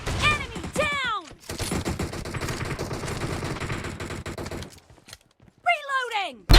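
M1014 shotgun shots ring out in a mobile video game on a OnePlus 6T, loud blasts mixed with a dense clatter of gunfire, a short lull, then more shots, with voices and music over them.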